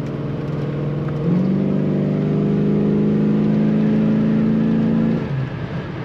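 A 1984 Chevrolet Monte Carlo with T-tops driving, its exhaust a steady mid-pitched drone that swells as it accelerates and holds for several seconds before easing off, with no talking.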